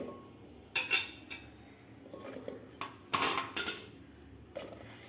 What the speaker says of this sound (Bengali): তারপরে এই পটলগুলো আমি প্রেসার কুকারে ভরে দিচ্ছি